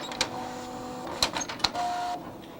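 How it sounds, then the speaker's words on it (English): An HP printer runs a page: a steady mechanical whir with several sharp clicks and clunks and a brief whining feed tone, fairly quiet and with no voices. "And the HP printer is printing it out right now."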